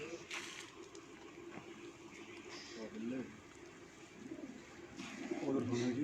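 Breeder pigeons coo in soft, low bursts on a rooftop loft, several short calls scattered among ambient noise with a voice talking over them.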